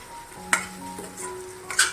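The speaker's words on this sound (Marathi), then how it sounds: "आपली आता ही भाजी होत आली आणि चमचा अशा पद्धतीने फिरवायचा आहे" A spoon turns okra and onion in a pan for bhendi fry, with two sharp scrapes against the metal over a soft, faint sizzle and no voices.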